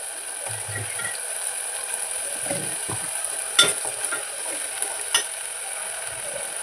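Gentle, constant sizzling of onions frying in a pan over medium flame, with a few sharp clinks of a spoon against metal and some faint scraping.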